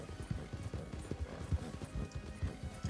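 Horse hooves clip-clop in a video game about bandits, a steady, fairly close rhythm of hoofbeats trotting along throughout with no clear talk over them.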